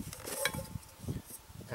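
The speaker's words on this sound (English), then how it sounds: "And then I have my large pot" Camping cookware rattling as a large pot and frying pan with small towels tucked inside are handled, giving close metallic clinks and scrapes in short bursts with no talking.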